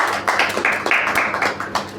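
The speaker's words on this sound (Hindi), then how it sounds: "ताली बजाएंगे उसके लिए" A small audience claps in a short, uneven patter at a church gathering, several hands tapping at a moderate pace, fairly close and with no talking over it.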